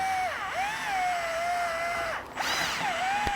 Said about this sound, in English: Use a number 3 screwdriver.